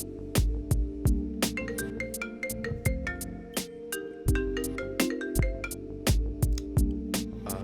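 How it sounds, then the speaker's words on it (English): A phone ringtone plays through a computer during a card game session, a melodic series of repeated tonal notes that ring steadily for several seconds, fairly prominent and with no talking over it. "my phone just rang through my computer"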